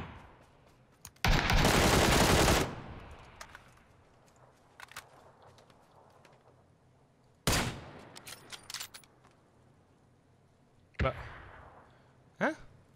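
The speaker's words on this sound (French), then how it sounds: "Mais mec, ça tire partout." Gunfire in the PUBG battle royale video game: a long loud burst of automatic fire, then a shorter volley and scattered single shots, with quiet gaps between them.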